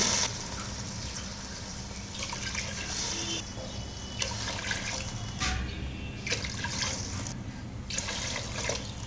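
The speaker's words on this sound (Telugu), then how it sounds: "ఆరు వాటర్ పోసానండి" Water splashes and pours into a pot of rice for bagara rice in several bursts, six glasses in all, close by, with short pauses between pours and no voices.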